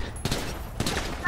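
Gunfire in Grand Theft Auto V: a few sharp, loud bursts of shots spaced across about a second, with game noise and some voice underneath.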